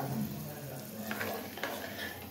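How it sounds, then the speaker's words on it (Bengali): Peanuts frying in a pan as they are stirred: a quiet, continuous sizzle with a few soft scraping stir strokes close by. "এখানে আমি এখন বাদাম ভাজছি।"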